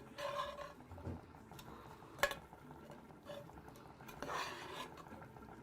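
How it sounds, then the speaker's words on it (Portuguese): Charque jerked beef and onion stirred in a pan, heard as quiet, sparse scraping and a few clinks of a utensil against metal, with a faint background hum. "Vamos mexer o charque com a cebola"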